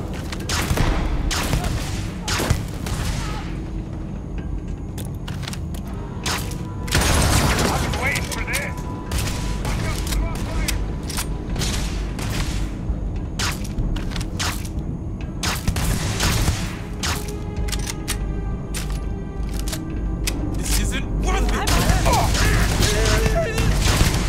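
A gun in Starfield fires in a long, steady stream of sharp cracks and mechanical clatter, fairly loud and close, with occasional heavier booms, as someone talks at moments.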